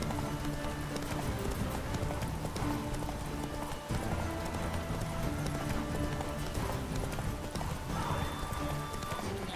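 A horse gallops in The Witcher 3 video game with quick, steady clip-clop hoofbeats. A brief neigh sounds over a dense mix of game background noise.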